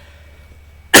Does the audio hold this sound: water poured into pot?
no